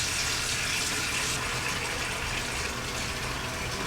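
Tap water runs steadily into a pot sitting in a kitchen sink while cheese curds are being made, a broad continuous rushing gush that stays loud and even throughout with no voices.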